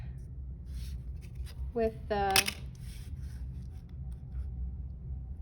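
A pencil rasps straight grid lines across drawing paper in soft, close strokes while a person talks over them.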